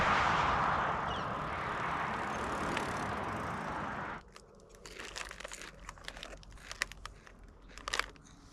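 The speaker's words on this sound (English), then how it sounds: "Eating my breakfast of, let's see, Sun Chips, Famous Amos, chocolate chip cookies" At a gas station stop on the Great Divide Mountain Bike Route, a wrapper crinkles and Sun Chips and chocolate chip cookies are crunched in close, irregular bites after a stretch of steady wind noise.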